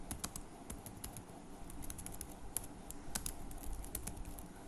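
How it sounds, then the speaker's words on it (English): Quiet, close typing on a computer keyboard, a rapid irregular patter of light key clicks running steadily throughout with no voices. "I'm gonna type in"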